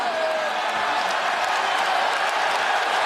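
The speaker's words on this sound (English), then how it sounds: "Hughes imploring the crowd for a little bit of energy, a little noise. A sold-out Coca-Cola arena, happy to oblige." A sold-out Coca-Cola Arena crowd at a PFL MMA fight roars steadily, a dense, unbroken wall of cheering and whooping that holds at a constant level throughout.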